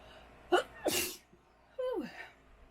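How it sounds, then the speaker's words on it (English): A single close sneeze, a sharp inhale followed by an explosive burst, then a short vocal sigh afterward in a quiet room. "I'm gonna sneeze."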